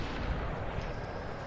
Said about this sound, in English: I might wait for a shooting to calm down a bit.